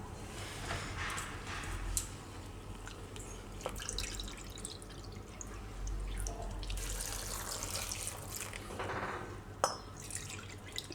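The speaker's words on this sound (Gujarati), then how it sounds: "તો આમાં આપણે પાણી નાખશું હવે." Water poured over cabbage, bottle gourd, raw plantain and peas in a pot, a soft running trickle with scattered drips and light clinks, close and fairly quiet, no talking.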